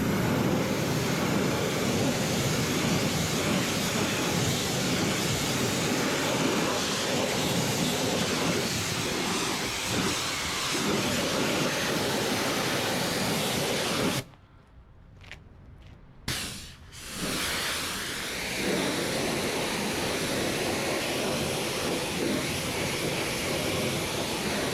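A Porsche 993 Carrera 2S has its wheels rinsed at a car wash. Steady loud water spray hisses for most of the time, with a brief pause and a few short gaps near the middle before the spray resumes.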